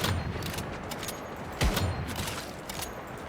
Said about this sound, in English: Okay, now I'm being shot at.